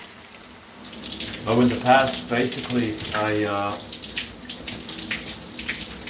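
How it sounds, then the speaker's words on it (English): Cold shower water runs steadily from a tap, a continuous hiss and splash heard close under a man's speech. "But I anyways would take a cold shower"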